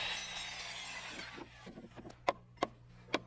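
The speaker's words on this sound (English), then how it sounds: "Here I'm cutting blocking for the medicine cabinet." A handsaw cuts a wooden blocking board for wall framing, starting with a dense rasping stroke that fades, followed by a few sharp knocks of wood, near and fairly quiet.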